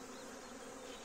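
Honeybees hum in a dense, even buzz at an open spring hive during brood frame inspection, a continuous close drone with no voices.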